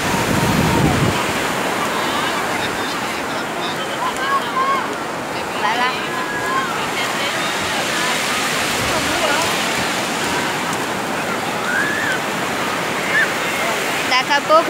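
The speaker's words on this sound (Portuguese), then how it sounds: "O barulho do mar, né?" Ocean surf at Praia do Peró beach in Cabo Frio, a steady close wash of breaking waves and foam filling the whole stretch, with faint voices mixed into the roar.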